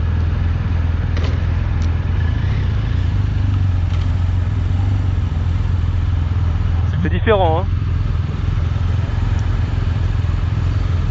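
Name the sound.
BMW R1250RS motorcycle riding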